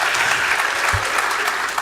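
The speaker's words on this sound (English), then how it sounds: "Can we give one more round of applause to Nathaniel Iskandar?" Loud, close applause fills a hall at a Mt SAC EOPS student recognition ceremony as the crowd claps steadily for an award recipient, with no talk over it.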